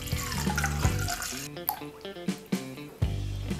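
Vinegar pours into a pot already holding two litres of water as a marinade for pickled cabbage is made, giving a close, bright trickle and splash with a few clinks and drips. No one speaks over it.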